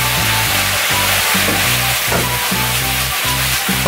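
Pork shreds for yuxiang rousi stir-fry in a hot pan, a loud continuous sizzle with rhythmic pulsing from steady tossing and stirring throughout.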